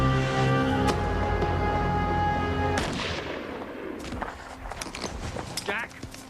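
A single sharp sniper rifle shot cracks out in a tense drama scene, followed by a sparse scatter of further impacts and movement sounds under a held musical tone.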